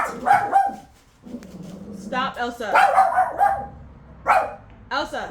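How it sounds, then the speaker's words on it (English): A pet dog named Elsa barks and yips in several short bursts close by, mixed in with a voice scolding it over an indoor background. "Sorry, that's my dog."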